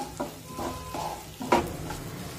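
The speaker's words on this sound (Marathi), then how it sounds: "कांदा सुद्धा यामध्ये परतून घेऊया" Chopped onion is sautéed in a pan for oats upma, with soft sizzling under scraping and stirring, a few light utensil clinks, and one sharper clatter partway through.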